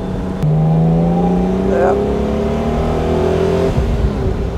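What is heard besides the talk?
classic car engine accelerating uphill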